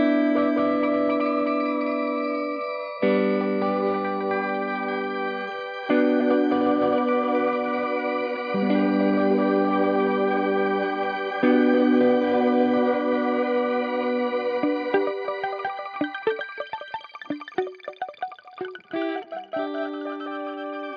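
Sustained synth tones pass through an Erica Synths Echolocator delay in shimmer B mode, swelling chords with pitch-shifted, chorused repeats, then breaking into a dense scatter of short, plucky echoes toward the end.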